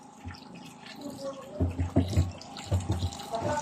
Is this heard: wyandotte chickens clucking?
no